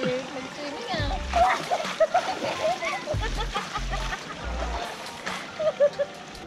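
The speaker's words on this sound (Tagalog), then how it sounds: "Ang galing ni Lyric mag-swimming ah." Splashing from people swimming in a cold-water pool at a private resort, irregular wet splats and sloshes close by, with children's voices and chatter running over them throughout.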